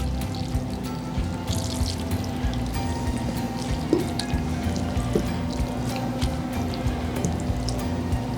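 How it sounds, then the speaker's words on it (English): Thick crab mac and cheese mixture poured and scraped into a cast iron skillet, a steady soft wet slosh under a low background hum, with faint clicks and taps, close and without talking. "And then we're going to pour this into our cast iron skillet."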